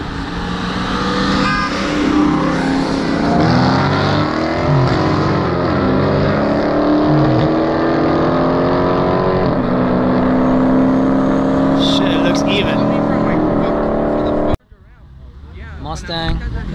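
Two V6 Ford Mustangs street racing at night, loud engine roar with rising and falling gear pulls sweeping through, dropping sharply near the end before another engine builds again.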